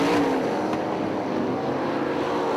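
Sprint cars race over turns one and two and down the backstretch of the dirt oval at Crystal Motor Speedway, a dense, steady roar of several engines blending at a distance with no break.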